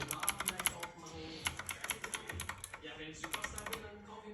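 Rapid keystrokes clatter on a computer keyboard connected to a PS4, crisp clicks in quick bursts with a short pause midway, close and quiet, with speech faintly in the background.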